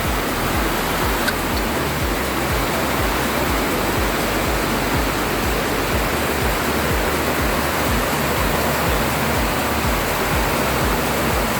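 Heavy rain pours down steadily in Cainta, a dense, loud and unbroken roar of water that fills the whole clip with no voices.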